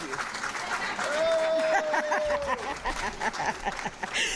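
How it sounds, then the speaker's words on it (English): An audience at a homeownership conference in Philadelphia claps in a dense wash of applause, moderately loud, with a voice speaking over it. "Put your hands together. Put your hands together. Put your hands together. Put them together. Clap."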